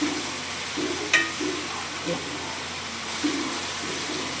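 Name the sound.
tomatoes frying in a pan for fish curry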